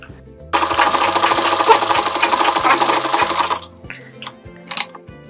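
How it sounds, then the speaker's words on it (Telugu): A sewing machine stitches blouse lining in a steady, loud mechanical whir lasting about three seconds, then stops, followed by a few light clicks and taps. "అదే విధంగా మనం స్టిచ్ చేసుకోవాలి"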